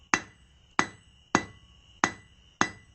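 A blacksmith hammers a square taper onto a steel fire poker, five sharp ringing strikes at an even, unhurried rhythm, each hit close and bright with a brief metallic ring fading before the next.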